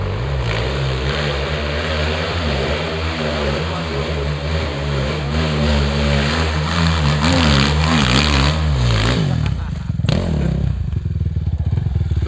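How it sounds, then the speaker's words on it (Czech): An enduro motorcycle engine runs loudly and steadily close by, its pitch rising and falling as it revs, then cutting off abruptly near the end. "Já slyším motor."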